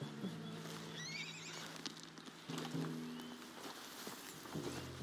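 A spooked horse in the video game Red Dead Redemption 2 gives a sharp whinny, then snorts and nickers over a few light hoof clops, fairly close and moderately loud.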